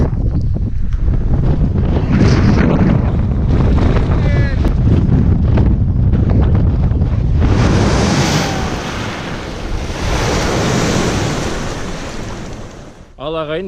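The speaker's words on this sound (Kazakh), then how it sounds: "Жел басталды." Strong wind blows beside open water on a mountain expedition in the Altai, a loud, steady roar mixed with surf-like rushing that eases slightly near the end.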